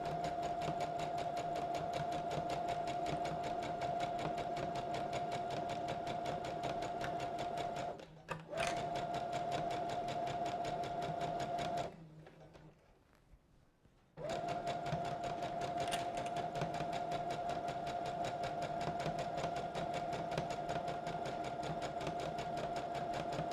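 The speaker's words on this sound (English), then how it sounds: "go to the sewing machine and just sew one line down each of these sides." A sewing machine runs in a fast, steady whir of stitching, pausing briefly twice before starting up again, quiet and close.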